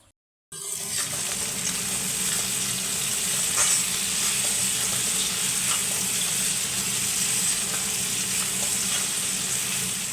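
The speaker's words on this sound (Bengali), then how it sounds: "এবার পেঁয়াজটা ভাজা হয়ে গেলেই আমরা তার মধ্যে টমেটোগুলো দিয়ে দিচ্ছি।" Tomatoes added to frying onions in a pan for a green banana kofta curry, bursting into a loud, steady sizzle after a brief silence and holding a constant frying hiss throughout.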